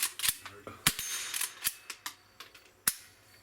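A suppressor-equipped firearm is fired at a shooting range, producing a run of sharp, close cracks at uneven intervals, each with a short decay and some quieter clicks between.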